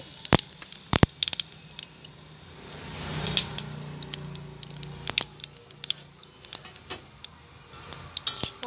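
Cumin seeds and a dried chilli sizzle in hot oil, giving a close crackle of sharp, scattered pops and spits over a soft frying hiss, with no one speaking.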